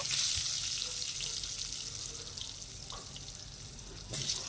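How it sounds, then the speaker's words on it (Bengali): Potatoes frying in oil for a winter-vegetable khichdi produce a faint, continuous hissing sizzle that swells slightly at the very end. "আলুগুলো একটু ভেজে নেব।"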